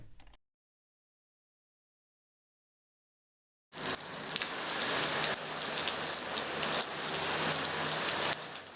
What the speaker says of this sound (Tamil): இபிசா பகுதியில் அரிதான ஆலங்கட்டி மழை பெய்தது ஆச்சரியத்தை ஏற்படுத்தியுள்ளது